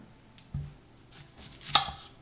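A knife cuts an onion into fairly big pieces on a board, with a few distinct chops, one firm knock midway and a sharper chop near the end, in a quiet kitchen.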